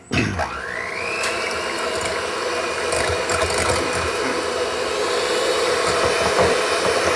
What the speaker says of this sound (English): So we'll just use the electric beaters.